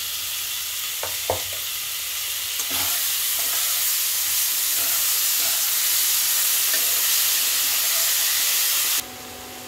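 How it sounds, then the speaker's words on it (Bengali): Onion, garlic and ginger paste frying in a hot pan gives a loud continuous sizzle and hiss with a few stirring knocks, ending abruptly near the close, no talking. "এবারে আমি দিয়ে দিলাম পেঁয়াজ রসুন আদা একসঙ্গে পেস্ট করে নিয়েছি"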